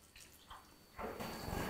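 Water squeezed by hand out of grated vegetables for veg momo filling; a quiet pause gives way to a steady, close trickle and splatter of liquid running out.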